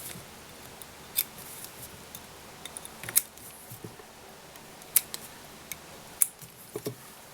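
Scissors trimming off the material ends while tying a Wilkinson Intruder tube fly: a few sharp, quiet snips spaced irregularly across a hushed, slightly noisy room, with no talking.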